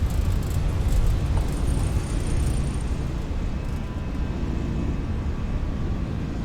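A Vueling Airbus A319 in Microsoft Flight Simulator 2024 roars down the runway on takeoff, a loud continuous low rumble of engines that eases slightly toward the end.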